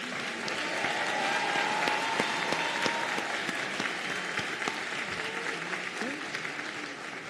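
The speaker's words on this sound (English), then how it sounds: "let's have one more round of applause for all of our BSN graduates" A large audience at a nursing college graduation ceremony applauds BSN graduates, sustained dense clapping at fairly even loudness throughout, with faint voices in the background.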